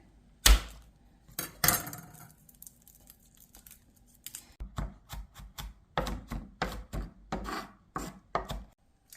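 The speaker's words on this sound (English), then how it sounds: "Next, we're going to finely chop 4 cloves of garlic." A knife chops four garlic cloves finely on a board, first a couple of loud isolated strikes, then a quick steady run of close, crisp taps.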